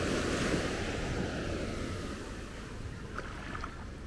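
Ocean waves wash steadily at Grand Anse Beach, Grenada, a continuous broad surf roar that is loudest at the start and eases slightly, with some wind noise and no voices.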